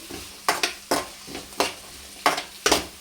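Onions and curry leaves being stirred in a pan for Rayalaseema-style uggani, a spoon scraping in repeated strokes about every half second over a faint background sizzle, close and unaccompanied by talk.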